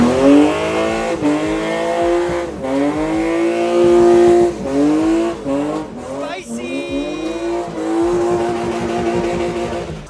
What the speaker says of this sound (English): This exhaust was not cheap, but it actually makes the car sound super good.